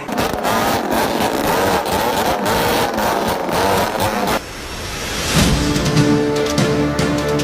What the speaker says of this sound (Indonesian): Ratusan kendaraan berknalpot brong meresahkan masyarakat.